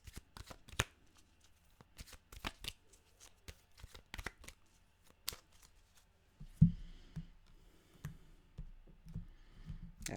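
Oracle cards are shuffled alone in close, crisp bursts of riffling clicks and slaps, with short quiet gaps between handfuls.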